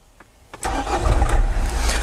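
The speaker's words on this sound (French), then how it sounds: "Maintenant je vais démarrer le véhicule." A car engine cranks briefly and catches, then settles into a steady idle, close and loud, with no talking.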